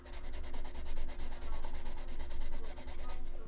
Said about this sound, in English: tonight, I'm going to try to get the sanding done